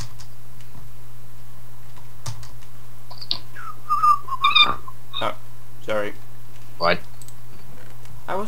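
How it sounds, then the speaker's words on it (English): A person whistles while playing Minecraft, in brief warbling phrases with pauses, over steady hum and scattered keyboard clicks. "I was whistling."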